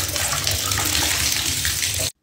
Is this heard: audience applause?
no